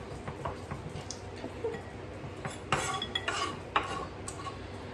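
Taco salad being spooned into a bowl, with soft scraping, light clinks of utensils against the dish and faint shuffling, quiet and close, with no talking.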